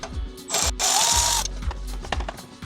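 A ratchet clicks rapidly in short bursts, undoing a single 10mm bolt under a V10 Volkswagen Touareg, with metallic whirring and scraping between the strokes.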